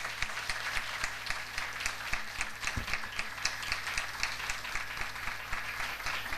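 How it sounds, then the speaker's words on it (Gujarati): Steady audience applause at a Pushtimarg kirtan gathering, a dense, even patter of many hands clapping that holds at moderate loudness throughout, with no voices over it. "એક વખત જોરદાર તાળી આ પ્રયાસને હોવી જોઈએ"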